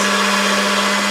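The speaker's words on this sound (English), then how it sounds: "I'm going to roll it through on a #1 just to make sure it's all the same thickness." A motorized pasta machine rolling polymer clay through to the #1 thickness setting gives off a steady, loud, close mechanical whir with a constant pitch and no pauses.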